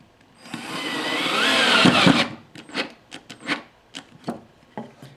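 A Skil 7.2V lithium-ion mini cordless drill whirs and grinds continuously for about two seconds, then gives a series of short rapid bursts and stutters as a large screw bites into wood.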